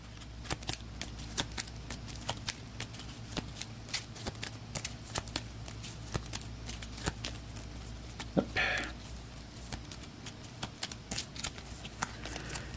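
Class treasure cards for the Hero Realms card game are shuffled in a quiet room, a soft, rapid rhythmic riffle of cards repeating steadily up close for about thirteen seconds.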